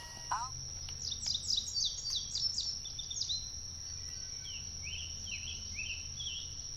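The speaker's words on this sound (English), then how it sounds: "It's only because the birds chirping so loud." Early-morning birds chirp and trill around a backpacking campsite, bursts of quick high tweets, some fairly near and others farther off, over a steady faint insect drone and low background rumble.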